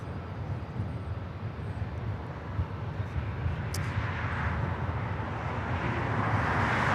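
Aircraft noise at Los Angeles LAX airport: a steady, loud broadband roar of a nearby plane that slowly grows in strength over the seven seconds, with wind in the background and no talk.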